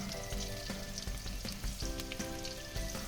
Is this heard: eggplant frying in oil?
yes